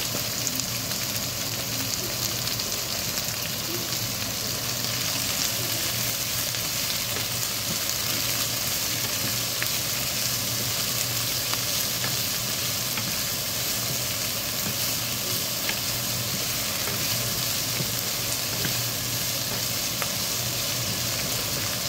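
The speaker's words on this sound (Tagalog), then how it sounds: "Unahin muna natin yung kanyang stock o yung tangkay niya kasi matigas siya." Pechay stalks sauté in a hot pan with a steady, dense sizzle that runs unbroken throughout, close and fairly loud, with occasional faint stirring taps.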